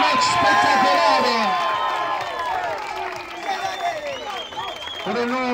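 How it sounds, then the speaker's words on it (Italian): Audience applause and cheering at a Muay Thai fight event for the two fighters, a dense, continuous crowd roar with clapping and whoops under an announcer's amplified voice. "facciamo un applauso a entrambi"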